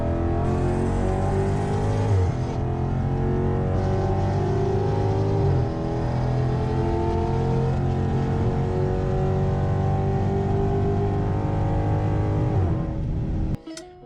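A loud Dodge Challenger Scat Pack V8 roars and revs hard, pitch climbing through gear changes, then cuts off abruptly at the end.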